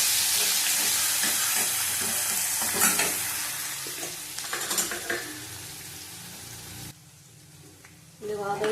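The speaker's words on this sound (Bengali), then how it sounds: "ভালো করে ভেজে দেবো" Chopped onion fries with a bay leaf in a pan, making a loud dense sizzle with stirring scrapes. It drops to quiet near the end before flaring up again.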